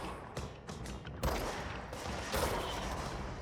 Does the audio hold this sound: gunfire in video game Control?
yes